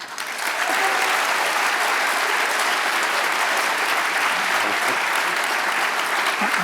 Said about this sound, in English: I hope you're timing your applause.